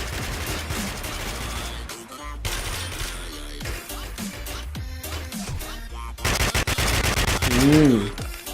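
Automatic gunfire from the video game Warmode rattles in dense, loud bursts through most of the stretch, with short gaps and a louder volley near the end.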